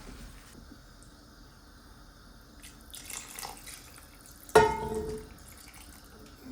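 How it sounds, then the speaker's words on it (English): Quiet kitchen sounds, then a short splash as water is poured into a soup pot over stock, followed by a brief trickle that fades away. "And I'm going to add some water also on top of that stock."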